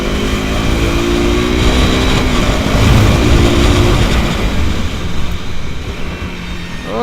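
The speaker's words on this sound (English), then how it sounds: "Well, I guess you could hear the exhaust note" A KTM motorcycle fitted with exhaust wrap roars through a tunnel, its loud, droning exhaust note echoing continuously and holding steady before easing slightly toward the end.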